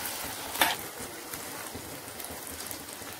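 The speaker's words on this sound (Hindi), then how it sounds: "इसको आराम से तेज फ्लेम पे ही फ्राई करते रहे" Taro (arbi) frying over a high flame in a pan, a continuous crackling sizzle with a sharper burst early on and small spatters throughout, moderately loud with no talking.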